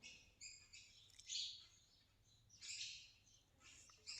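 Sparrows perched on house stairs chirp in faint, scattered bursts of high tweets, some overlapping, against a quiet indoor room.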